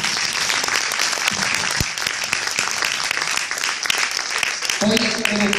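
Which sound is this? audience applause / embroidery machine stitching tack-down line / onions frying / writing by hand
audience applause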